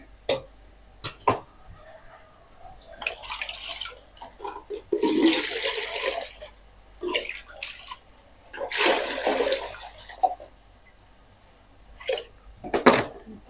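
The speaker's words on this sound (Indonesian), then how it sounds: "aku mau tambahkan air dulu ya, air gentong" Water is poured from an earthen water jar into a cooking pot in several loud, close splashing bursts, with short pauses and a few small knocks between them. No one speaks.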